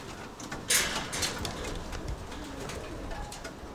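Pigeons in a loft with a door being opened, giving soft cooing and bird calls at moderate level, with a brief louder rustle or flutter near the start and steady background.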